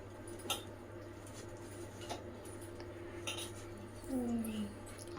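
Chicken pieces being mixed with coating for pakoda in a bowl, faint scattered clinks and soft squishy stirring against a quiet room hum, no talking.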